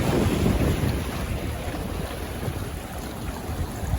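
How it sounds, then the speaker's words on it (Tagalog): Strong wind by the sea at a fishing spot with big waves, a loud, steady roar buffeting the microphone, with rumbling gusts and surf blending into one continuous wash for about four seconds. "malalaki ang alon at mahangin mga par."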